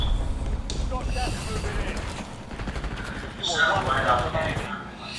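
Gunfire in a video game shootout, dense overlapping bursts and rattling shots running throughout, with a voice talking over the fight.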